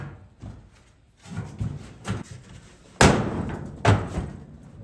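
Hammer blows on the sheet metal of a 1979 Ford F150 cab during rust repair, a series of dull thuds building to two sharp, loud metallic strikes close by, with no talk.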